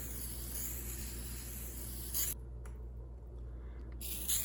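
Bursts of hissing spray as starch is sprayed from a pump bottle onto a shirt, with a brief pause between sprays against a low steady background hum.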